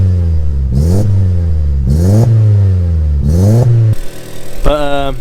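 An Audi S3 engine running just after a cold start, loud and close, its idle rising and falling in repeated blips with a clattering edge and a final quick rev.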